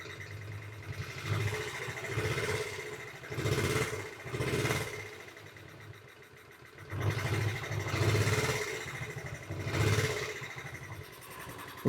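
A small 1972 Honda 50 mini bike engine idles nearby with a steady putter that swells and eases in slow, uneven pulses.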